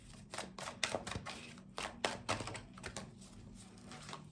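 A quick, irregular flurry of crisp flicks and taps of tarot cards being shuffled up close, with a faint hum underneath.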